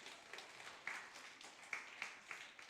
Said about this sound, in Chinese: 我们也给这个帅哥掌声鼓励一下